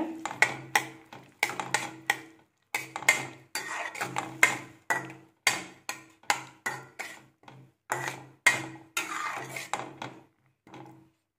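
Puliyodharai tamarind paste is mixed with fenugreek and asafoetida powder, a rapid series of close spoon clicks and scrapes against a vessel in short bursts with brief pauses, quiet surroundings and no speech.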